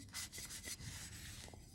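Short, scratchy strokes of sandpaper rubbing a glass bowl being decoupaged, several quick passes in an uneven rhythm, close up and fairly quiet.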